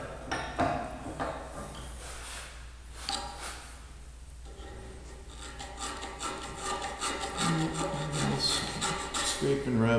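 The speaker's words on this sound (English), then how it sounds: "Scrape and rub." Metal being hand scraped and rubbed during repair of an Autometric machine's worm gear, a steady run of rasping, rubbing strokes close by with faint clinks and a bit of background talk.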